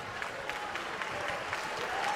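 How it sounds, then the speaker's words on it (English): Boxing arena crowd applauding both fighters after a ten-round championship bout, a steady dense wash of clapping at moderate distance with a murmur of crowd noise. "let's have a big round of applause for both of the fighters in this ring"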